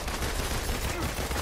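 Gunfire in the Marvel's Avengers video game on PS4, a dense, steady stream of loud overlapping shots that blends into a continuous barrage for the whole stretch, with no talking.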